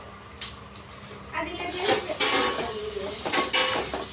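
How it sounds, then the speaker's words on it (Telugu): A spoon stirs coriander powder and garam masala into chole masala curry in a pan, with scraping, clinking strokes and a soft sizzle beneath, starting quietly and then becoming busier and louder partway through. "మొత్తం నీట్గా కలిపేసుకోవాలి."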